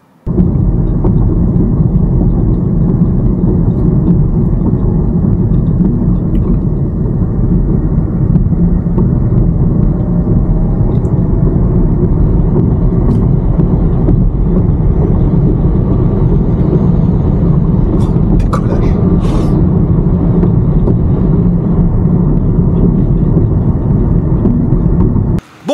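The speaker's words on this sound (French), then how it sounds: "Pendant que la voiture est en train de se climatiser toute seule. Alors c'est bien ce qu'on entend évidemment que la clim." The air conditioning of a BYD Dolphin electric car runs as a steady, loud, broad blowing hum that fills the cabin without pause, with only a few faint clicks on top.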